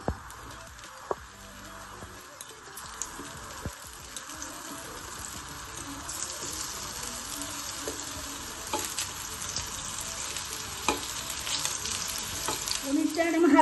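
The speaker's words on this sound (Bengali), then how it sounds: "পনিরটা একদম হালকা ভাজা হয়ে গেছে, আমি তুলে দিচ্ছি।" Paneer pieces fry in hot oil for a Bengali navaratna cholar dal, a steady close sizzle that thickens and grows louder toward the end, with occasional clinks and stirring noises.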